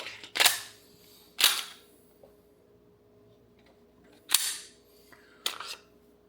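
The slide of a stiff, not yet broken-in Glock 26X pistol is racked hard, giving four sharp metallic clacks close by, spaced irregularly with quiet gaps between them.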